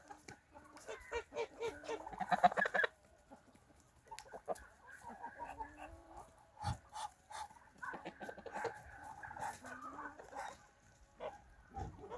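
Geese and chickens call on a village farmstead during a winter vitamin feeding, a run of loud, close cackling and honking giving way to scattered, fainter calls and clucks.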